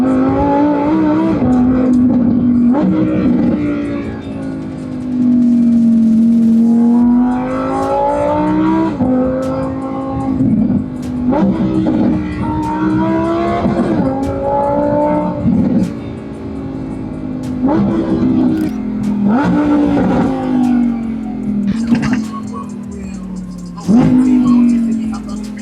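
A Lamborghini Huracán STO engine hums and rises and falls in pitch as the revs change, heard from close by with people talking over it throughout.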